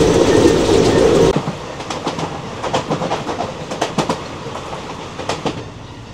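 A passenger train runs on rails in Kerala, first as a loud rushing roar, then as a quieter rhythmic clickety-clack of wheels over rail joints, heard close and continuous.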